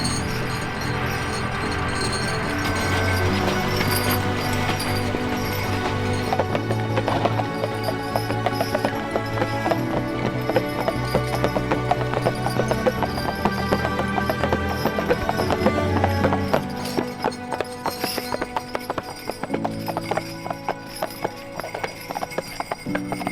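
Clydesdale horses walking at a steady pace, their hooves clip-clopping in a continuous, fairly close rhythm over a constant low background, with an occasional whinny.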